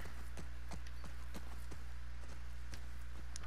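Horse hooves clop in a steady walking rhythm in The Last of Us Part II, crisp regular hoofbeats over a constant low hum, moderately close.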